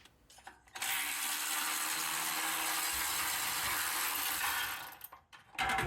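A ratchet with a swivel socket loosens the muffler bolts on a Generac RS5500 generator, giving a steady, close mechanical whirring rasp that runs for about four seconds between quieter moments.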